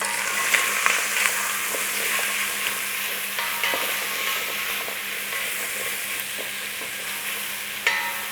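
Onion, carrot and celery fry in a pan with a steady broadband sizzle, stirred throughout with scraping clicks and a few sharper utensil knocks, close and continuous with no talking.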